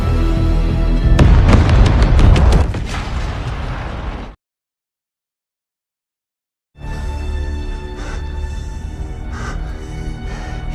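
A large cinematic explosion destroys the Hotel Continental in New York: a loud, dense roaring blast with crackling bursts, then sudden dead silence, followed by a lingering rumbling aftermath.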